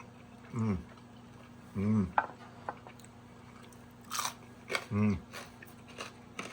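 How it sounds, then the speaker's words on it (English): Crisp crunching bites into rotisserie pork belly skin, a few distinct chews close to the mic with brief pauses between, while people talk quietly around them. "There's a crunch."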